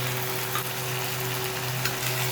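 Potatoes, onions, tomato and ground cumin, ginger and coriander pastes frying in oil with salt and turmeric, a steady close sizzle with faint stirring scrapes and no talking.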